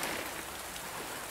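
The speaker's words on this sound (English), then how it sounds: "So we have rain" Steady rain falls outdoors, a dense, even hiss of drops on surfaces with no breaks or voices, moderately loud throughout.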